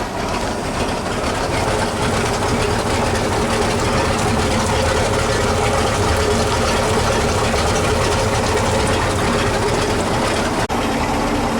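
A Bayliner boat's inboard motor runs steadily at a constant rumble, loud and unbroken throughout, with no voices.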